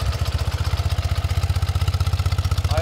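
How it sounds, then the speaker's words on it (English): A 1981 BMW R65 motorcycle exhaust chugs close by with a deep, rapid, even pulsing beat, loud and steady throughout. "Listen to the exhaust note on this thing."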